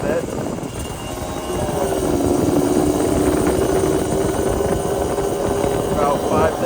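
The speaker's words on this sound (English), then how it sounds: "Let her warm up a bit." A 1988 Yamaha DT50LC two-stroke motorcycle idling as it warms up on a summer evening: a loud, steady, buzzing engine drone that rises slightly after the first couple of seconds, with a rough, noisy edge throughout.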